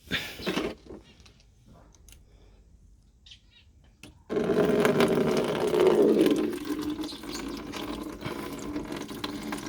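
Coolant drains from the opened radiator drain tap of a VW Golf 4, a steady splashing gush of liquid that starts abruptly and runs continuously into a container, close and fairly loud after a short quiet stretch with brief talk at the start.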